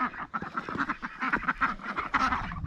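A frightened flock of ducks, after an attack on the flock, quacking together nearby, a dense overlapping chorus of harsh quacks with some honking from geese, no talk.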